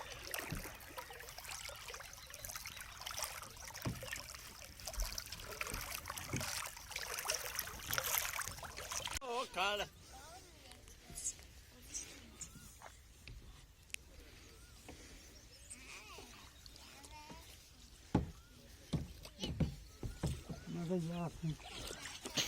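A wooden rowboat is paddled across shallow water under hot sun, with soft splashes and trickling from the oars running steadily throughout, while people talk over it and occasional birds call in the background.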